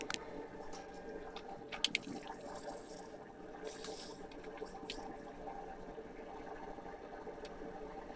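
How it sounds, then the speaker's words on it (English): Red-hot steel from a forged lawnmower blade plunged into water, giving a steady hissing, bubbling wash with a couple of sharp clicks early on, close up and with no voices. "Now I'll cool it down in water"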